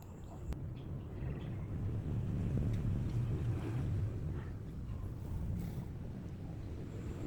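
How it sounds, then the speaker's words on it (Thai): Steady wind blows at an outdoor temple site in Phetchabun province, Thailand, a continuous low rumbling gust noise against the microphone that swells slightly midway, with no talk. "ระหว่างนั่งลมพัดเย็นสบายมากเลยครับ"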